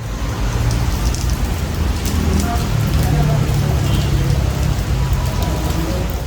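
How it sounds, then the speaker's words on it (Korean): Steady, heavy rain in Ho Chi Minh City during the rainy season pours down continuously and close by, a dense, even hiss of drops on surfaces with a deep low rumble underneath and no voices. "요즘 우기인 호치민이라서 하루의 반나절은 이렇게 비가 내립니다"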